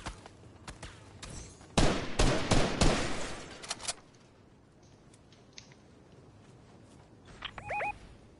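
A loud close burst of automatic gunfire in a duos video game match, several rapid cracks over about two seconds, then quieter scattered shots and a few short electronic beeps near the end.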